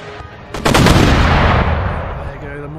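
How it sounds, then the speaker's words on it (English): Mortars fire in Empire Total War, a sudden loud cannonade bursting in after a quieter start, with rapid overlapping booms that roll on and slowly fade, while a voice talks faintly over the battle. "There go the mortars."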